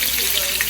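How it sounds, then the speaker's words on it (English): Food seared in a hot pan for a fish catch-and-cook, likely tako, ahi or ono, giving a brief, steady close sizzle with broadband hiss and no voices. "I'm just gonna give it a quick little sear"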